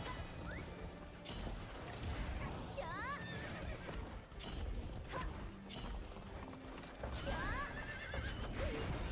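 Horses galloping in the racing game Alicia Online, with busy clip-clop hoofbeats, repeated neighs and whinnies, and occasional crashes and clunks in a dense, continuous game soundscape.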